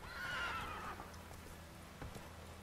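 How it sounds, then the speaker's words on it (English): A horse whinnies clearly at the start, followed by soft, steady clip-clop of hooves, in the video game The Witcher 3: Wild Hunt. "Because I would expect a Witcher's horse to be able to fucking jump, Roach."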